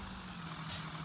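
Bus air brakes in a video game give a brief squeaky hiss over a low engine rumble, a short burst of bright squeal partway through at moderate loudness.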